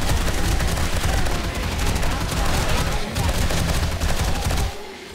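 Rapid automatic gunfire from a weapon in the zombie survival game 7 Days to Die, a dense, continuous stream of loud shots for several seconds before cutting off abruptly near the end.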